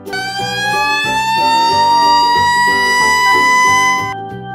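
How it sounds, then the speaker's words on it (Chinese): Animated toy fire truck siren wailing loudly and steadily with a bright rising tone, over a bouncy rhythmic music bed, cutting off just before the end. "消防车。"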